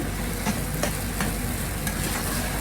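Potato and egg curry masala roasts in a pan with a steady broad sizzle, while a spoon scrapes and stirs at a few soft, irregular moments; no voices.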